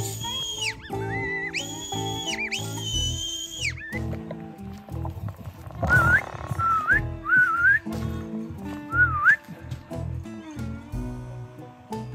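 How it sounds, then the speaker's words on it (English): Out in the field, a hunter blows a predator whistle to call in a fox, giving several rising, sliding whistle bursts, with some clearer tonal notes at the start under faint rustling. "so I pulled my whistle out"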